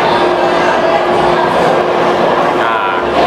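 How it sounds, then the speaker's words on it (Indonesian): A Jakarta MRT metro train pulls into a crowded station, its steady electric hum and rolling rumble loud and continuous, with people talking over it. "sudah menunggu kereta dan sudah tiba"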